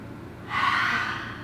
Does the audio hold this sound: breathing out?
yes